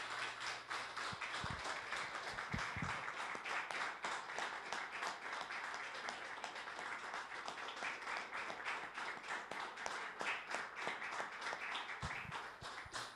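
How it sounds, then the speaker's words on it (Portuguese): A church congregation applauds steadily throughout a Sunday worship service, a dense wash of many hands clapping at close to mid distance with a few louder nearby claps, and no voices breaking through. "Vamos aplaudir bem forte a todos eles."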